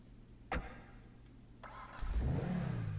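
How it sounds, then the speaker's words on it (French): The Obey 9F sports car in GTA V, a copy of the Audi R8 heard from the first-person view, gives a sharp whoosh, then its engine starts and revs up into a rising, sustained growl. "on commence tout de suite par la Obey 9F"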